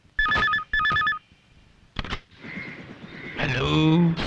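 A telephone rings twice in quick double bursts, loud and close, as a call is placed to police headquarters, followed by a brief click and then voices and background sounds.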